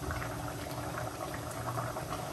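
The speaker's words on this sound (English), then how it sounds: "the water started to boil again" Water with spinach comes back to a boil in a pot, a steady low bubbling rumble heard up close with no voices.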